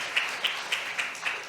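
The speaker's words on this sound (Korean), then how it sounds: "우리 함께 격려의 박수 한번 해드리도록 하겠습니다" A church congregation applauds the conductor during a Sunday morning worship service, a soft, steady wash of distant clapping lasting throughout with faint periodic accents.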